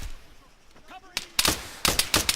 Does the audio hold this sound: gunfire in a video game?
yes